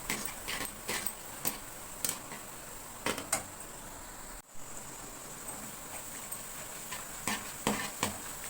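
Peanut pakora sizzling in a frying pan while being stirred, steady frying hiss broken by repeated scraping clicks and knocks from the utensil at irregular intervals.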